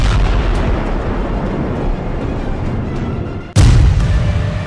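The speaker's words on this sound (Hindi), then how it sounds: "जब हिजबुल्लाह के ठिकानों पर इजराइल का बम गिरता है तो धमाका बड़ा होता है" A sustained roaring rumble, then a sudden loud blast from an Israeli bomb striking Hezbollah positions that keeps booming and rumbling afterwards.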